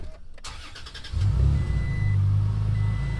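A Toyota Tacoma 4x4 pickup truck engine cranks briefly and catches, then settles into a loud, steady idle rumble up close.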